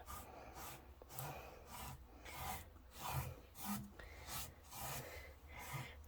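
Soft, rhythmic rubbing of a cloth over a painted 1930s–40s waterfall wooden vanity, wiping off excess wax in repeated close, quiet strokes about every half second.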